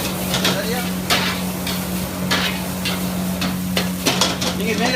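Fried rice being stirred in a hot pan, with repeated scraping strokes of a utensil against the metal over a continuous low sizzle, close and fairly loud.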